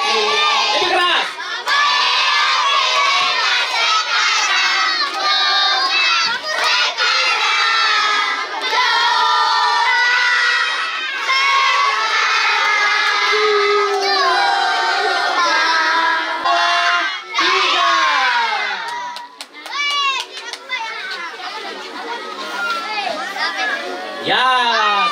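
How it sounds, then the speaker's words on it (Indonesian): A crowd of children sings the Tiup Lilin birthday song loudly together at a first-birthday party, with shouting and chatter mixed through the chorus. "Kita menyanyi tiup lilinnya."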